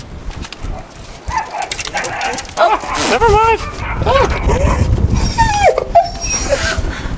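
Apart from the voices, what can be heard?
small puppies barking and whimpering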